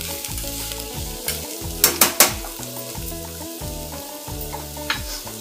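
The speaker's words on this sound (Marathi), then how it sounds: "पुन्हा थोडं परतवून घ्यायचं चांगलं असं मिक्स करून घ्यायचं" A drumstick khichdi mixture is stirred and sautéed in a pan, a steady sizzle under repeated scraping strokes of a spoon against the metal, with a few sharper clinks in the middle.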